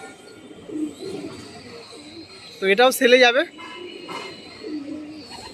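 Soft cooing of tournament pigeons kept at a home loft, faint and intermittent beneath someone talking in the middle.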